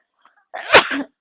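A single loud, close sneeze, with a brief sharp intake of breath just before the explosive burst.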